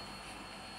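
Freight train brakes squealing steadily and loudly during yard switching on a Great Northern line, a harsh, continuous metallic squeal with no talk.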